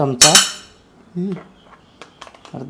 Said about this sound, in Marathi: मग आता आपण आपलं भांडं घेऊ, ज्याच्यात आपण बेक करणार आहे आपल्या OTGमध्ये